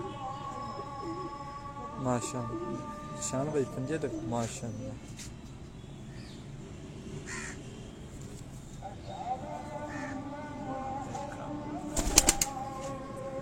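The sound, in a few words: pigeons cooing and flapping on a rooftop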